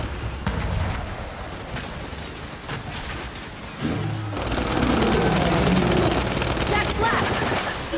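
Heavy automatic gunfire rattles continuously in a Gears 5 battle against a carrier, loud and close, with booming impacts and shouted voices over the shooting.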